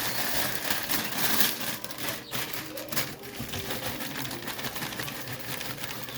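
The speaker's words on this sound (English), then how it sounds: "Now your pork grinds. No, right before we do the overall, the pork grinds. Crush them up a little bit as well." Pork rinds crushed by hand for a jailhouse wet burrito give a dense, steady crackling and crinkling, close and fairly loud, running continuously with brief dips and no talking.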